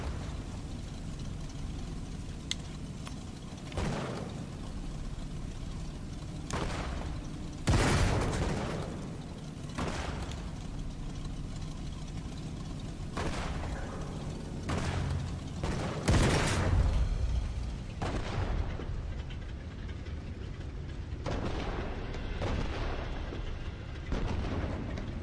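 Sniper rifle shots ring out in Sniper Elite 5 on PC, several sharp loud cracks spaced irregularly over a steady rumbling battlefield background, with no talking.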